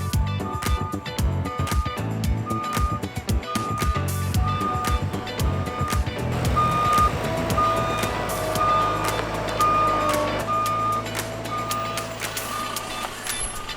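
A lorry reversing near a barn rebuild site, its steady repeating reversing beeps sounding in a regular rhythm over a loud diesel engine rumble, close and continuous.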